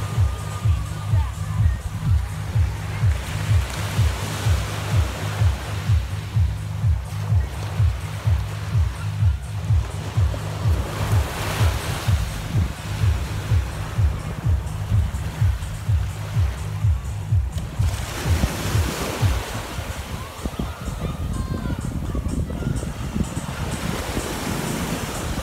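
Ocean surf and wind on a beach in Mexico with rain approaching, a steady broad wash of waves and gusts up close, with a rhythmic low thumping through most of it.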